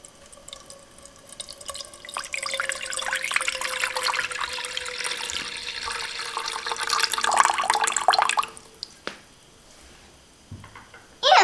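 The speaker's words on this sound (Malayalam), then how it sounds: "ഇനി നമ്മുടെ പാനിലേക്ക് 2 ഗ്ലാസ് വെള്ളം ഒഴിച്ചു കൊടുക്കാം." Two glasses of water poured into a cooking pan, a steady splashing stream running for several seconds before stopping, with a brief clatter near the end.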